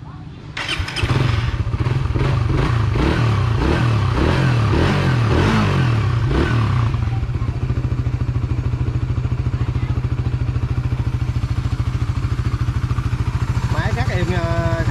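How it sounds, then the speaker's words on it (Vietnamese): A 2019 Yamaha Satria 150cc motorcycle engine cranks and fires, revs unevenly for several seconds, then settles into a steady, loud, close idle. "Rồi giờ mình nổ máy nha."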